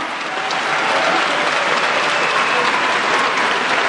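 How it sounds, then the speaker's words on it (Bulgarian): Loud, sustained audience applause at a competition opening, a dense wash of clapping hands holding steady throughout with no gaps and no talk over it. "Силни аплодисменти за организатора на конкурса община Бургас"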